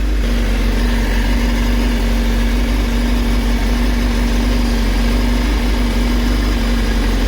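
Steady idle of a 2024 Honda CBR1000RR-R SP motorcycle fitted with a changed exhaust, a loud, close, continuous engine drone with a constant low hum and no talk.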